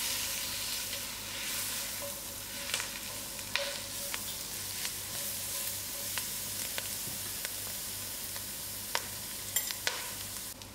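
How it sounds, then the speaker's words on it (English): Masala sizzles and fries in a small amount of oil while cooking trotters and beans, a steady soft crackle with occasional sharper pops and faint stirring clicks, close and continuous with no talk. "Give it a few more seconds to cook out the masala."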